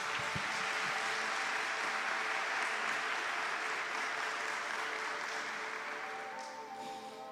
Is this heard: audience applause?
yes